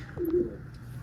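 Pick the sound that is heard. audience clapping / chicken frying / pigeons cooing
pigeons cooing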